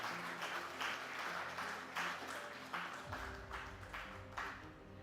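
Applause at a banking conference's annual meeting, a crowd clapping steadily in a large hall, moderately distant and continuous, with a low background hum and some rhythmic accents.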